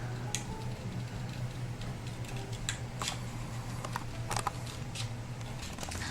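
Scissors snip shamrock shapes out of paper, with repeated small close snips and paper rustles over a low steady hum, and no voices.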